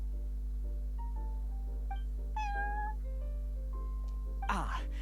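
A cat meows several times in a shop setting inside the Genshin Impact game, short pitched calls over a steady low electrical hum, ending with a louder, rougher cry.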